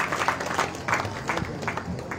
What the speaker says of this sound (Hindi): दो ताली गंगाराम जी